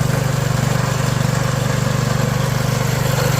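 Skif WS-4100 branch shredder running steadily while grinding branches, a loud continuous motor drone with a rapid pulsing rumble and no talk over it.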